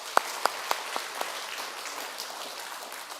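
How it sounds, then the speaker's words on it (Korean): Church congregation applause, a few loud separate claps at the start followed by softer, scattered clapping that thins out, heard from a short distance in a sanctuary. "박수 한번 합시다."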